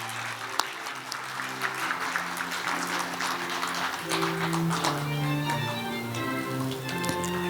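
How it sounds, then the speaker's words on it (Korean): Audience applause at the 66th Samil Culture Award ceremony, steady clapping throughout with sustained musical tones playing underneath. "박수 보내주세요"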